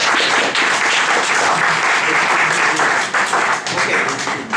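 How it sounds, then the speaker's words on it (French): Applause from a classroom audience encouraging a student group, a dense steady clapping that fills the whole stretch and thins slightly toward the end. "On les applaudit pour les encourager."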